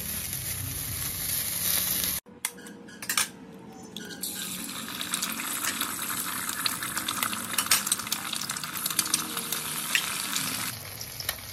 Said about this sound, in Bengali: বাঁধাকপিটা দিয়ে দিলাম। একটু লবণ দিলাম, একটু ভেজে যাক